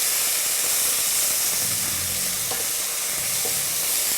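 Chicken stir-frying in hot oil with paprika, a steady broad sizzle and hiss throughout with a few soft stirring scrapes and clicks, close and fairly loud, no talk.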